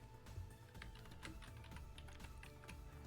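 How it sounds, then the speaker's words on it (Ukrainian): Quiet, continuous clicking of a computer keyboard, with rapid key presses that include a Ctrl+Space combination, heard close up with no talking. "скористайтесь комбінацією клавіш Ctrl-пропуск"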